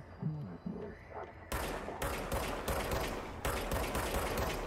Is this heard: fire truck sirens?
no